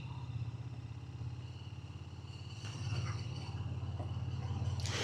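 A motorcycle pulls away from a stop on a test route, its engine note rising steadily with a faint mechanical clatter, heard close and continuous with no speech.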